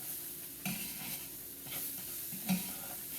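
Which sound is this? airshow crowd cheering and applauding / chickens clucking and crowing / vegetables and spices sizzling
vegetables and spices sizzling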